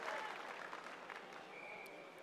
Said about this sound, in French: les 2 bus de Nevers applaudissent le joueur qui sort sur blessure